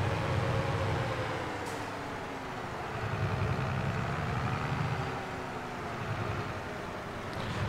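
A tractor engine idles in Farming Simulator 22, a steady low rumble that gently swells and eases in slow cycles, with no speech.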